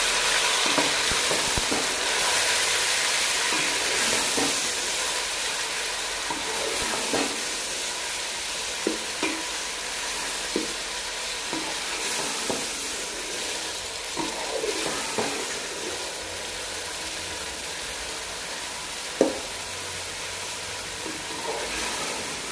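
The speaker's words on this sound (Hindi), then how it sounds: "अब हम इसमें ऐड करेंगे टमाटर। और इसे मिक्स कर लेंगे।" Chopped tomatoes stirred into browned onions frying in oil for chicken karahi, a loud steady sizzle with scattered spoon scrapes and taps against the pan, no talking.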